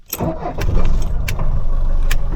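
A diesel engine in a 1979 Mercedes-Benz W123 cranks and catches, then runs with a loud, rough idle for the rest of the short moment.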